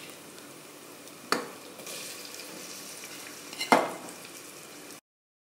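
Garlic-ginger paste and tomatoes frying with onions for chicken karahi, a soft steady sizzle broken by two sharp clinks of a spoon against the pot as the mixture is stirred.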